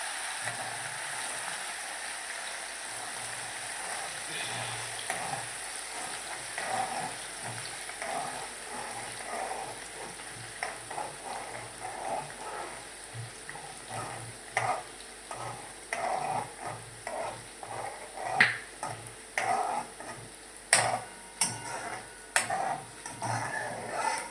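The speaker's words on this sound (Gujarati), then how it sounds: "હવે આપણે આદુ મરચાંની પેસ્ટ નાખી દઈશું મિક્સ કરી લઈશું" Frying potatoes with ginger-chili paste being stirred in, a constant close sizzle broken by repeated scraping and clinking of a spoon against the pan, growing busier and louder toward the end.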